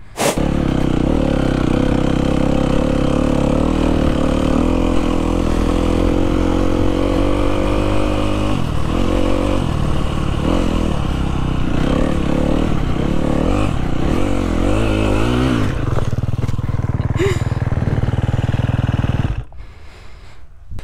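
A motocross motorcycle rides through sand on a motocross track, its engine loud and close, revving up and down through the ride before cutting off abruptly near the end.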